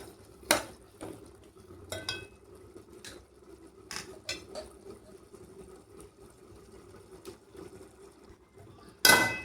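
A shrimp curry with coriander and garam masala is stirred in a pan, giving sparse scrapes and soft clinks of a utensil against metal, with a louder clatter near the end, all fairly close and with no talk.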